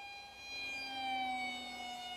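Steady high-pitched whine of an RCTimer FR2205 2550Kv brushless motor spinning a 6x4x3 three-blade prop at three-quarter throttle, a sustained tonal drone with slight pitch drift, loud and close.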